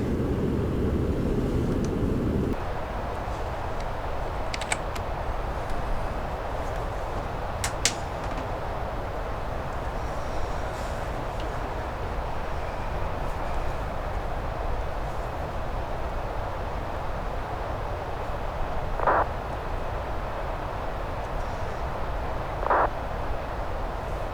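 A FedEx airliner climbing out of Stuttgart in Microsoft Flight Simulator 2020 produces a loud, steady, broadband engine drone throughout, with a few brief clicks and faint tonal blips over it.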